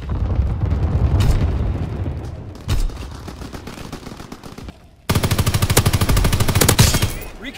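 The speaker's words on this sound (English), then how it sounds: "Anti-aircraft burst has commenced." Anti-aircraft gunfire in Call of Duty WW2 hammers out in loud rapid bursts, pauses briefly, then returns as a sustained, dense stream of fast shots mixed with booming blasts.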